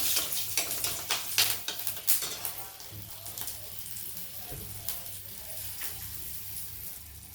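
Green chilli tempering sizzles in hot oil along with a bay leaf, a soft crackling fry with a few sharp spits early on, settling into a quieter steady sizzle and stirring scrapes.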